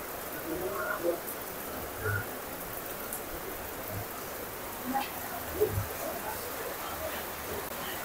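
Light, steady rain patters softly throughout, with a few louder drips and faint background chatter.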